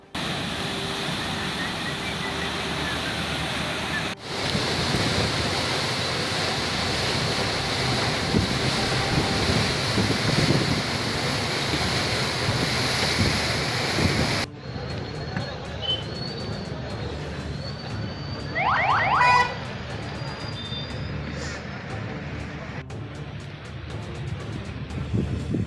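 A boat crosses the backwater of the Koilsagar project reservoir, with a steady, loud rush of wind and water churning throughout and a brief change in the noise partway through.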